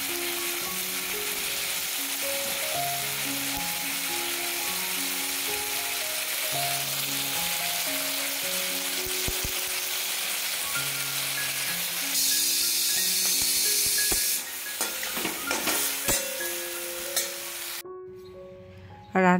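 Tomatoes fry in a pan with salt and turmeric for a chutney, giving a steady, close sizzle that runs throughout beneath a background melody of music, briefly louder toward the end.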